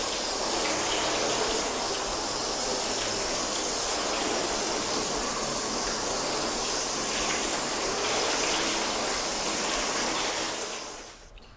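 Water from a hose rinses a car during a spray sealant test, a steady, rushing spray that holds at an even level for several seconds before fading out at the end.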